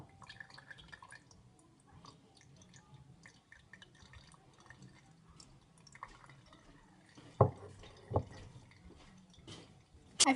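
Strained orange juice for homemade soda drips into a container, faint scattered drops over quiet background with a few louder splashes and clinks near the end.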